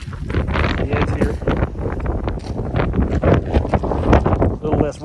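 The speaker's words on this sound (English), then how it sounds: "A little less wind back there." Strong blizzard wind in Colorado buffets the microphone in rough, gusty rushes, with a person talking through the roar.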